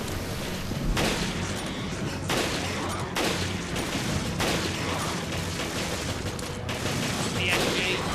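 Rifle fire in the video game Resident Evil Revelations Raid Mode comes as dense, continuous rapid gunshot bursts that stay loud the whole time, with a few louder blasts, under low game background noise.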